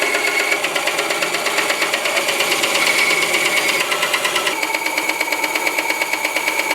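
A bandsaw cutting through knife steel for a bushcraft blade gives a loud, continuous whining buzz with a fine rapid pulsing rattle, steady and close, the pitch shifting slightly midway as the cut progresses.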